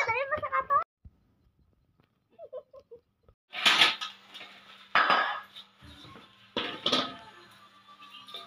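Pots, pans and cutlery clatter in bursts as cooking begins, with sharp metallic knocks and scrapes after a brief spell of talk at the start and a few quiet gaps.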